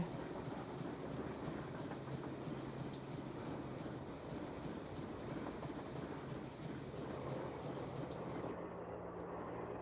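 A moving train rumbles and clatters continuously on its rails in the Nancy Drew game Last Train to Blue Moon Canyon, a steady clickety-clack heard from inside the carriage with no talk.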